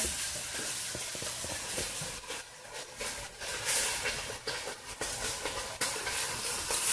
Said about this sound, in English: So here, I'm going to just flip the meat one more time.